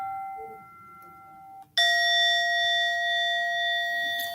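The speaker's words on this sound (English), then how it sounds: "different Buddhist temples use different mindful bells" A Buddhist temple mindful bell is struck once, after a faint ringing tail; the bright, sustained metallic tone blooms suddenly and lingers, resonating clearly with shimmering overtones through the rest of the clip.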